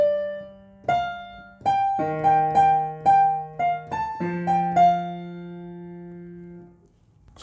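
A piano plays the chorus melody of a song as clear single notes and simple chords at a moderate pace. The last chord rings out and decays into quiet.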